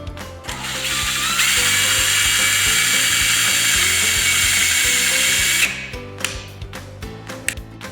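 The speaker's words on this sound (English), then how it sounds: "So I'm just going to start out by pre-drilling right into the first one." Power drill pre-drilling into a wooden plank for a craft sign: a loud, steady high whine for several seconds after a brief start, then stopping into a few small clicks and taps close by.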